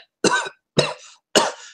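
A voice imitates a man coughing and clearing his throat with three short, harsh bursts, spaced evenly and heard up close with silence between them.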